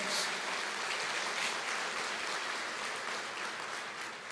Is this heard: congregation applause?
yes